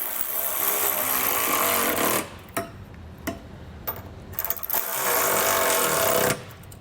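A power tool, likely an impact wrench, works on trailer hitch bolts on a 2009 GMC in long loud continuous buzzing runs, broken by a gap with a few sharp clicks before it starts again.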